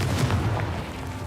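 Confringo explosive spell blasts in Hogwarts Legacy, a dense, loud, low booming rumble that rolls on continuously without clear gaps.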